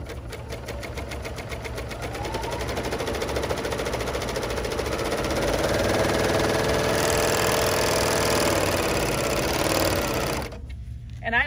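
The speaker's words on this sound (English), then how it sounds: "there is nothing that sews like this Bernina L890 Serger" A Bernina L890 serger stitching fabric, running at a fast, steady mechanical whir with a rapid rhythmic clatter that rises slightly in pace, then stops abruptly near the end.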